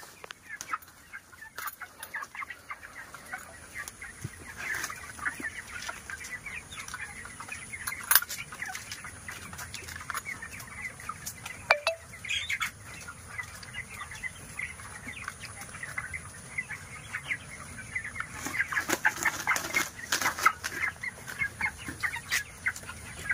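Live broiler chickens cluck on and off at moderate distance, with scattered clicks and clatter in the background.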